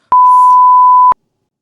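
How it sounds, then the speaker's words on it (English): A single clean electronic censor tone, about one second long, sits at a steady pitch and cuts in and out sharply, covering a swear word. "I had to beep that out"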